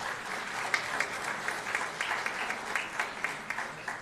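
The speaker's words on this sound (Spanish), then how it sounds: "les damos un fuerte aplauso" Audience at a municipal government morning event applauds for the business sponsors, a steady, moderately distant patter of many hands clapping with a few sharper claps standing out.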